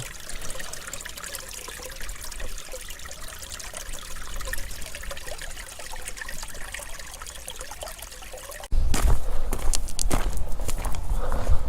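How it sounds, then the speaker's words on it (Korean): A stream trickles and babbles continuously beside a temple on an autumn path, with soft shuffling steps, then the water turns louder and closer for the final few seconds. "참 이렇게 물 흘러 내려가는 소리가 참 정겹네요"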